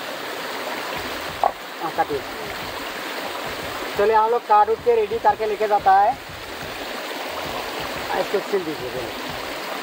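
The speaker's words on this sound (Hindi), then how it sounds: "और इस तरफ भी देखिए ये पहाड़ से आने वाला झरना" A mountain waterfall stream rushes in a steady, broadband wash throughout, with people talking over it in the middle stretch.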